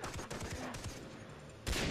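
Gunfire in a Far Cry 3 co-op game, heard as a quiet run of rapid shots followed by a duller stretch, then a sharper, louder blast right at the end.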